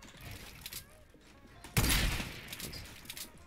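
A single loud gunshot hits a training bot on a Fortnite edit course, a sharp close blast that fades out after a quieter stretch. A voice talks faintly around it.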